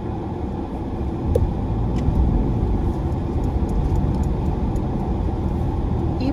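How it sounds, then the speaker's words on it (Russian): A car climbing out of an underground parking garage from level minus seven, a steady, fairly loud engine and road rumble echoing in the enclosed space throughout, with faint clicks above it. "Даза, начинаем выезжать с минус 7."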